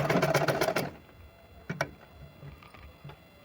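A sewing machine stitching a Patiala salwar runs in a loud, rapid, rattling burst for under a second, then stops, leaving faint clicks and handling sounds nearby.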